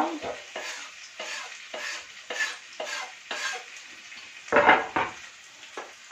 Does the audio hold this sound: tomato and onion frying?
yes